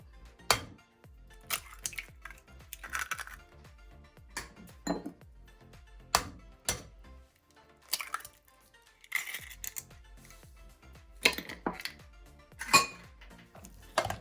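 Banana bread batter of vanilla essence, milk and eggs being mixed in a bowl: a utensil clinks and taps against the bowl with scattered sharp knocks and soft wet stirring between them, close and quiet, with no speech.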